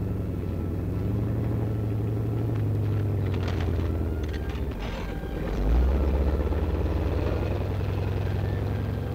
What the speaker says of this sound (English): Not only does the new tank possess greater firepower and speed, but it can also pass with flying colors the most tortuous of obstacles